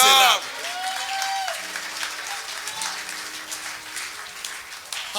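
A church congregation applauds in a sustained, dense wash of clapping that stays steady and fairly loud throughout, with a brief sung or shouted note near the beginning.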